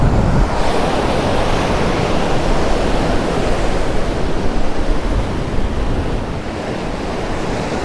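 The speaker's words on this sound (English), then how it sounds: "the waves that are breaking" Ocean surf breaking on a windy shore where striped bass are fished among seaweed, a continuous loud wash of crashing waves with steady roaring noise and wind, no voices.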